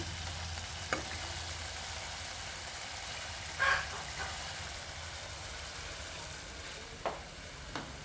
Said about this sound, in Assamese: এতিয়া মই এখিনি আৰু অকমান দেৰি 2 মিনিটৰ কাৰণে ভাজি লম